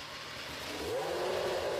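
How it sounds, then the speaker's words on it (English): A 3-litre V10 Formula 1 racing engine fires up and settles into a loud, rough idle, its pitch rising as it catches. "After the 3-litre V10 finally starts"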